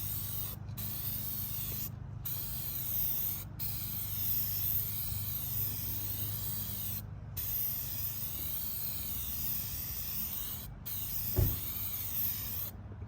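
Aerosol spray paint hisses steadily while a curb is coated from the corner across, in short bursts with brief pauses, loud and close against low background rumble, no talk.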